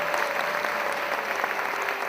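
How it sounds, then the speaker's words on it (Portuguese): A church congregation at an Assembleia de Deus service breaks into steady, dense applause, many hands clapping together in a full, even wash that holds throughout. "Você pode dar uma salva de palmas para Jesus?"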